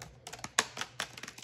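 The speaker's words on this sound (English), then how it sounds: "I'm just typing" Fingers typing on a computer keyboard, a quick irregular run of about ten close, crisp key clicks with one sharper tap in the middle, quiet and alone.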